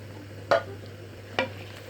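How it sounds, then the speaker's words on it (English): Tomato paste and tinned chopped tomatoes frying together for jollof rice, a low steady sizzle broken by two distinct stirring scrapes about a second apart, no voices. "Then you fry it with the tomatoes for another couple of minutes"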